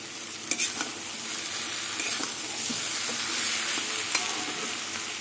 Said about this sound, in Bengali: ঢেকে ঢেকে বাঁধাকপিটা কষিয়ে নেব।